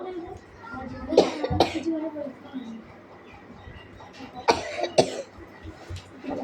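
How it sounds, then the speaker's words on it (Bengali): A child coughs in two bursts of several sharp, raspy coughs each, close by in a quiet room, with faint low background noise in between. "কাশি হচ্ছে কেন?"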